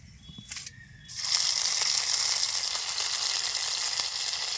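Whole cumin seeds hit hot oil for tempering and crackle into a steady, loud sizzle that starts abruptly after a few faint clicks and holds close and even to the end.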